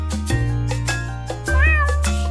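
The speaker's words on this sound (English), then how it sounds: "The cat on the fence says meow, meow, meow." A cat meows over a bouncy musical backing, a few separate mews with one longer, wavering cry near the end.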